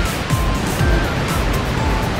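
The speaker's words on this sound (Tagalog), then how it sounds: "Pero ito yung number one falls." A waterfall at Lake Sebu in South Cotabato roars close and loud, a dense continuous rush of falling water with no pauses and no talking.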